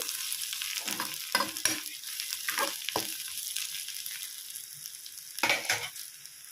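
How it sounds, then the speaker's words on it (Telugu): Tempering for rice flour upma sizzles and crackles in a hot pan, a steady frying hiss broken by several sharp bursts of spattering, with occasional stirring scrapes. "అయితే వేగుతుందండి కొంచెం నిమిషం వేగాలి"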